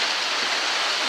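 Steady, real rain falling after weeks of dry weather, a dense continuous hiss of drops filling the whole short stretch with no voices.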